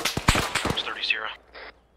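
Friendly soldiers' gunfire in ArmA 3, a quick burst of several sharp, fairly close rifle shots in the first second, followed by a brief rattling tail and a short electronic tone.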